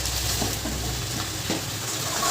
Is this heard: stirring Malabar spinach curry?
yes